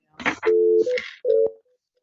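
A telephone number is dialed, followed by short tonal beeps and line tones, close and clear, with a brief burst of sound at the start.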